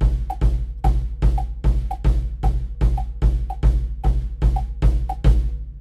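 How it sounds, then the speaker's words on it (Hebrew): Woodblock played with the left foot in a three-over-four pattern within a Moroccan groove, heard as regular crisp knocks under deep bass thumps, close and steady with no voices. "יש לי עם רגל שמאל פה וודבלוק"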